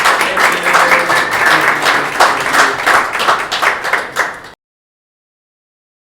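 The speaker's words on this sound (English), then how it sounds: "just go Joel a round of applause" An audience applauds a speaker at a Rochester Green Drinks gathering, a dense roomful of clapping for about four and a half seconds before it cuts to silence.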